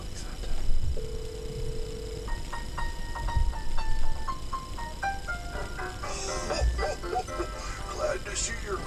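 A telephone sounds a held dial-type tone followed by a quick run of stepped keypad beeps and ringing tones, with people talking and laughing throughout.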